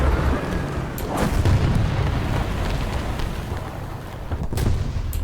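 Heavy booms and rumbling explosions from an air support strike in War Thunder, with a low, continuous roar and a few sharper blasts near 1 and 4.5 seconds.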